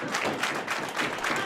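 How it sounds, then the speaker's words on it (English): A crowd at a New Texas Pro professional wrestling show cheers in a short, fairly distant wash of noise that swells and dips in a few surges. "This crowd now cheering on ASF, trying to get that momentum."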